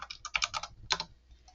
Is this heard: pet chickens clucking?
no